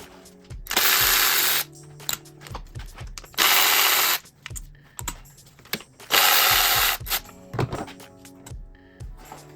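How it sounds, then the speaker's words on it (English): Hand ratchet working on the ignition coils of a Mazda CX-9 2.5-liter turbo four-cylinder engine, with three long loud bursts of rapid mechanical clicking separated by short clanks, taps and handling noises, no talking. "I'm using a ratchet, a hand ratchet, and I'm doing it manually"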